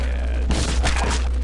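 Gunfire in a video game: a dense burst of shots and thuds over a steady background hum, loud and close, following a quieter stretch.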